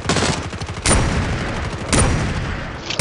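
Rapid bursts of gunfire ring out loud and close in the mobile shooter game COD Mobile, one dense volley followed by two more sharp shots.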